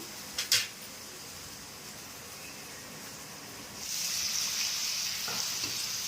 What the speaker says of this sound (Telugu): కొత్తిమీర పుదీనా కొత్తిమీర చికెన్ వేసుకుంటున్నా